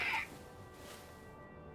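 A short bird squawk, crow-like, in the video game Dragon Age: The Veilguard, one sharp cry at the very start, fading into quiet game ambience.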